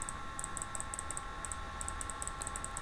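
Rapid, light mouse clicks repeat in irregular bursts while drawing in GIMP, faint and close over a steady electrical hiss.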